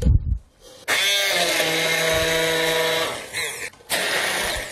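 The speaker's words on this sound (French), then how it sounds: "on met tout dans le mixeur, et c'est parti" A kitchen blender roars loudly and steadily while blending garlic and onion for a broccoli soup, starting after a brief pause, dipping once and then resuming at full power.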